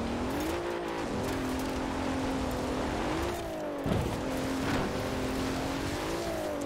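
A Bentley Continental Supersports in Forza Horizon 4 runs over gravel, its engine droning steadily with rising and falling pitch as it shifts, plus a brief rough burst of tyre and surface noise midway; no voices.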